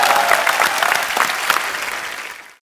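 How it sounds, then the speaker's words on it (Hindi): Dense, loud applause from a television comedy show's studio audience, steady clapping that fades out near the end, with no talk over it. "एक बार जोरदार तालियां"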